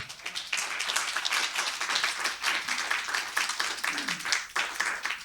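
Audience applause fills a lecture hall during a special talk on AI, a steady dense patter of many hands clapping at once, held at an even level throughout.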